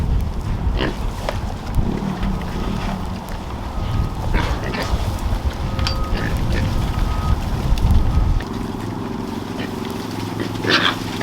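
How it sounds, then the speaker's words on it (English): Male pigs grunting in a pen, scattered low grunts and snuffles over a steady background rumble, with occasional squeaky calls, fairly close and irregular throughout. "in there I've got 2 of the male pigs"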